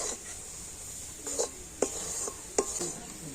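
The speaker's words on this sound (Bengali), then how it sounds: "আর এবার কন্টিনিউ নাড়াচাড়া করে এটাকে আরও একটু আমি টাইট করে নেব" Coconut mixture stirred in a pan over low heat, a utensil scraping and rubbing against the metal in a few soft, irregular strokes with light clinks, fairly quiet and alone.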